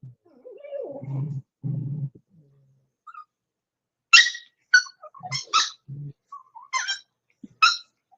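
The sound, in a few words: puppies squeaking and squalling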